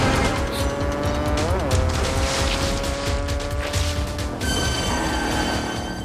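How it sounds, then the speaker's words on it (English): A motorbike engine whines through a film chase scene, a loud sustained tonal drone that bends in pitch and holds, layered with tire squeal and other chase noise and music. "we had the whine of the motorbike to deal with"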